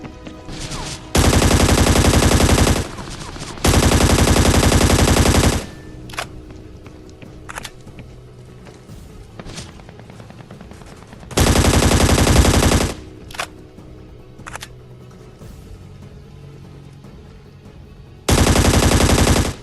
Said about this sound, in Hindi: जैसे ही दो बंदों ने फायरिंग की